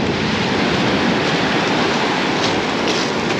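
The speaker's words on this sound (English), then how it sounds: "this wind's horrible." Strong wind buffets the microphone on a beach with big surf during bass fishing, a loud continuous roar of gusts and crashing waves with no speech.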